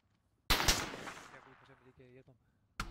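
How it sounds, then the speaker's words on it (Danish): Gunfire in a Danish-played tactical military shooter game: a loud burst of shots with a sharp opening crack, decaying echoing reports, and another shot at the end, with faint voices in between. "Jeg må tage skud direkte fra nord."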